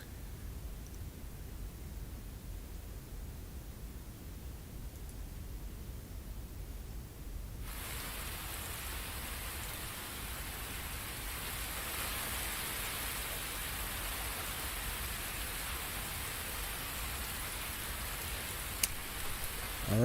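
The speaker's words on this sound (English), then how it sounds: "Don't want thunder, just rain." Recorded rain without thunder played back, a soft steady hiss that thickens into a brighter, fuller downpour partway through and continues evenly to the end, with no voices.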